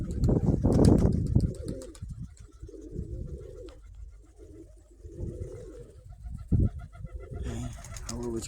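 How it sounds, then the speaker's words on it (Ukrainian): Pigeons coo repeatedly in a loft, low throaty calls rising and falling close by, with a burst of wing flapping and a few chirps, while someone speaks at times over them. "Голуби летять, конечно."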